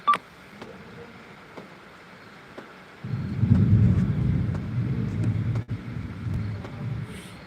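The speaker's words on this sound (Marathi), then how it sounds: "तुम्ही या ठिकाणी व्हिडिओमधून या मधून विजांचा कडकडाट पाहू शकता" Thunder rumbles through a heavy rainstorm in Beed district, a low, loud roll swelling up after a quieter stretch of steady rain and sharp crackles, then lingering to the end.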